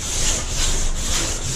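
Sanding primer on the body of a 1960 Corvette, a steady dry rasping scrape that runs continuously and fairly loud, rising and falling slightly with each stroke, with no talking.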